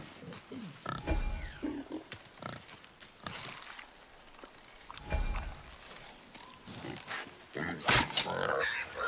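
A wild boar grunts and snorts during a video game hunt, a few scattered rough bursts amid quieter game ambience and faint voices.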